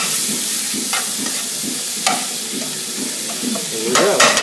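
Garlic, fresh herbs and shiitake mushrooms sauté in extra virgin olive oil: a steady, close sizzle runs throughout, broken by occasional stirring scrapes and a louder flare near the end.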